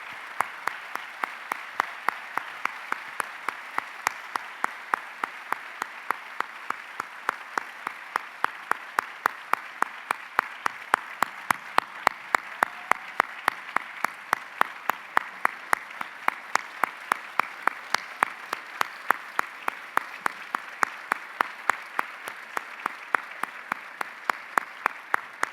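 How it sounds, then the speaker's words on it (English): At a school district management team meeting, a group claps in a steady rhythmic beat, sharp hand claps repeating evenly for the whole stretch and holding a constant tempo, with no voices heard. "I'd like to give Judy Seal a big round of applause for her dedicated service and support for the schools"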